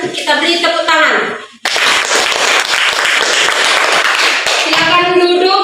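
Classroom applause as students clap together after a group discussion wraps up, a dense burst of many hands lasting several seconds between stretches of a voice.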